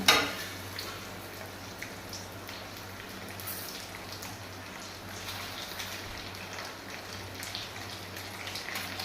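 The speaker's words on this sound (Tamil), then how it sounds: "கடுகு பொரிஞ்சதும் காஞ்ச மிளகாய் அதில் சேர்த்துருங்க." Mustard seeds and dried red chillies spluttering in hot oil over a low flame: a steady, fine crackling hiss that runs throughout, with no talk.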